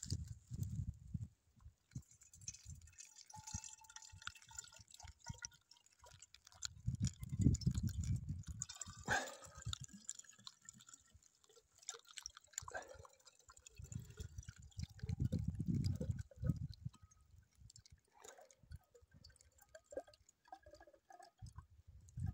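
Birch sap drips into a jar outdoors in soft, irregular drops over a quiet background, with occasional faint knocks and rustles.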